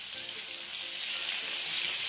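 Cauliflower pieces fry in hot oil, giving a steady, fairly quiet broadband sizzle that builds slightly toward the end, with no talking.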